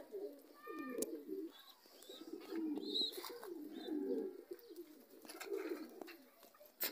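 Pigeons coo in low, throaty, rolling calls that overlap one another, close and fairly loud, with a few sharper chirps and faint clicks scattered through.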